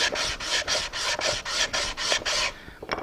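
Wood end grain is hand sanded with 220-grit sandpaper in about nine quick, rhythmic back-and-forth rasping strokes, close and even, before a short pause and a final light scrape.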